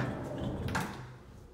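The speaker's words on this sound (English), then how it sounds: "When you close this barn door," A sliding barn door in a finished basement rolls shut, a short rumbling slide with a brief bump near the middle, close by, with no talk.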